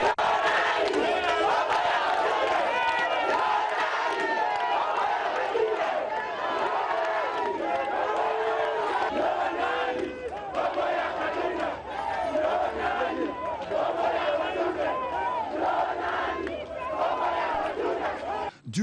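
A large crowd in Brazzaville cheers and shouts in a continuous, dense roar to welcome President Joseph Kabila at the river port, loud and close with overlapping voices.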